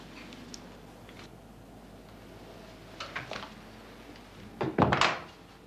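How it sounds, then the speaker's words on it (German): A door pulled shut in a quiet room, a soft thunk near the end after some faint shuffling, moderately close. "würden Sie bitte die Tür schließen?"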